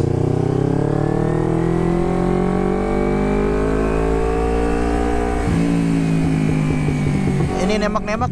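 A carbureted Kawasaki Ninja 250 with a megaphone exhaust revs loud and close, its engine note climbing steadily, then dropping and stuttering into a crackling, uneven idle toward the end.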